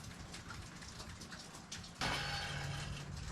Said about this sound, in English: And it's raining outside today.